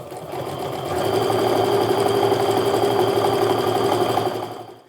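A sewing machine runs a steady, continuous stitch along a quilt seam, the presser-foot edge guiding the fabric; the mechanical hum stays close and even for several seconds, then stops, with no voices.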